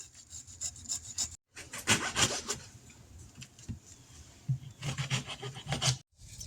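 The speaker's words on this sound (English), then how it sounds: "Grate up a piece of fresh ginger." Fresh ginger root rasped across a grater in quick bursts of scraping strokes, close and fairly loud, with short pauses between the rhythmic passes.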